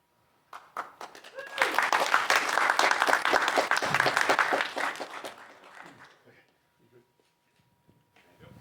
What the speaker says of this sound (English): Round of applause for our book winners.